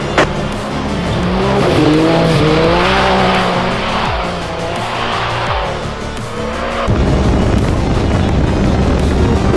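A Can-Am Maverick X3 side-by-side roars at full throttle, its engine climbing through loud rising revs with gear changes and tire noise, close and continuous.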